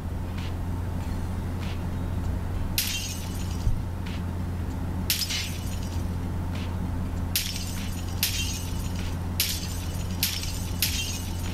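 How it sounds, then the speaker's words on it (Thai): Glass shatters repeatedly in a video game, heard through budget earphones in game mode: a series of sharp, bright breaking bursts at irregular intervals over a low, steady game background hum. "เนี่ยดูเสียงกระจกนะครับ"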